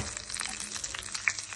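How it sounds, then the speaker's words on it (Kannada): Mustard seeds and curry leaves tempering in hot oil for a mixed-leaf sambar give a steady close crackle and sizzle with scattered sharp pops, with no voices. "ನೋಡಿ, ಸಾಂಬಾರಿಗೆ ಒಗ್ಗರಣೆಗೆ ಹಾಕ್ತಾ ಇದ್ದೀನಿ"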